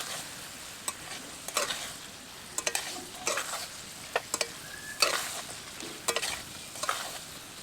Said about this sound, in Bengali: এবার দিয়ে দেবো ভেজে তুলে রাখা চিকেনের পিস। খুব ভালোভাবে সমস্ত সবজি এবং সসের সাথে মিশিয়ে নেব।